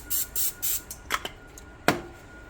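Seasoned food gets a few short hissing bursts from a spray can, three quick rhythmic sprays up close followed by light clicks and a sharp tap, no speech.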